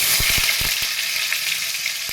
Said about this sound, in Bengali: আলুগুলো ছেড়ে দিচ্ছি তেলের মধ্যে